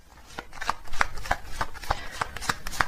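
Tarot cards shuffled by hand in a steady run of crisp riffling snaps and slaps, roughly a dozen soft bursts at an even, quick rhythm, close and moderately quiet with no talking.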